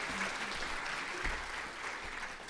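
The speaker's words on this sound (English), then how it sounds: "let's give another round of applause for our first three winners" An audience at the 4th Annual STEMmys Awards applauds its first three winners, a steady, even roar of clapping from a large room, somewhat distant and without talk.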